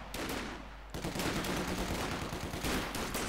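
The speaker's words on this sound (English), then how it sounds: "Light sprinkling out of MP40 bullets" Bursts of MP40 submachine gun fire rattle out in the World War II strategy game Company of Heroes 2, dense overlapping shots with other battlefield gunfire, continuous and loud after a brief lull.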